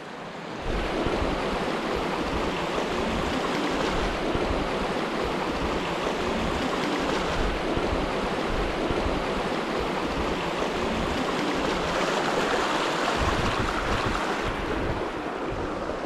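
Constant rushing water flows loudly and evenly at a river crossing near Tafí del Valle, a broad roaring wash of current with some wind buffeting, no voices.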